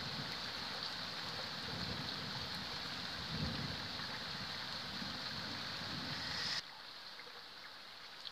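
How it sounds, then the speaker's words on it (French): Heavy thunderstorm rain pours steadily on a surface, with low rumbling thunder swelling beneath the downpour; the rain cuts off abruptly near the end, leaving a quieter hiss. "Spectaculaire cet orage."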